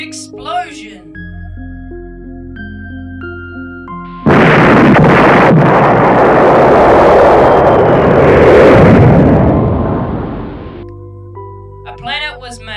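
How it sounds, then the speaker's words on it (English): Huge explosion sound effect in a boys' school stage production: a sudden loud blast that rolls on as a long, roaring rumble for about six seconds before cutting off, with soft tonal music before and after. "the universe was created by a huge explosion"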